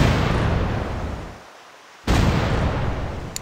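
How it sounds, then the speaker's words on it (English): Ship cannons firing in the video game The Pirate Caribbean Hunt: a loud, rumbling barrage fades to a brief lull, then one sharp booming blast resumes the heavy roar. "Load the guns! Fire!"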